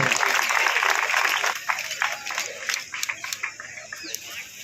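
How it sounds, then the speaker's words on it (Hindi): An audience at a hospital-organised marathon event claps, starting as dense applause and thinning into scattered individual claps, with a voice speaking over it. "आपकी तालियों में कोई कंजूसी ना रहे।"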